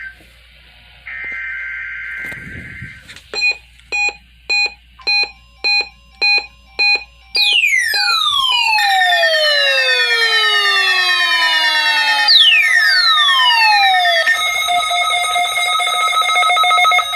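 An Emergency Alert System test sounds loud electronic alert tones: a burst of static, a row of evenly pulsed beeps, then sustained tones with sweeping falling chirps. No one speaks.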